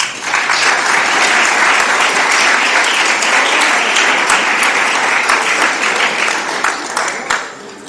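An audience at a school awards gathering breaks into sustained applause, a loud, full roar of clapping that holds steady for several seconds before tapering off at the end.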